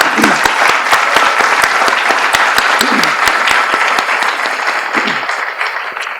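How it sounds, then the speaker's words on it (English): An audience at a fall semester in-service program for school staff gives loud, sustained applause, dense and continuous clapping close by that holds steady before easing slightly at the end. "I think we really need to give our custodians and maintenance folks a round of applause"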